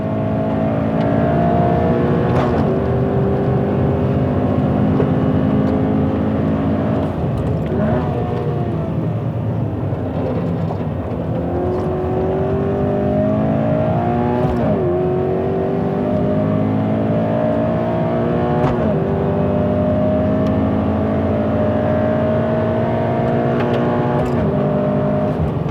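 A used Toyota AE86 Hachiroku with about 100,000 km is driven hard around a track, its engine droning loudly and continuously, rising and falling through revs and gear shifts with no talk.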